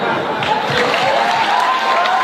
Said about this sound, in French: On applaudit, bravo.